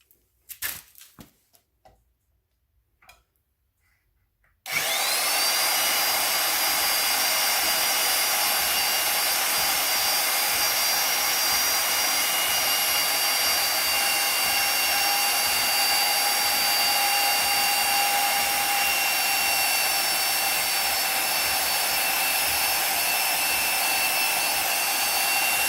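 After a few seconds of quiet clatter, a power tool starts up and screams continuously at high pitch as it cuts through the frame of a RZR 570 side-by-side, loud and steady to the end.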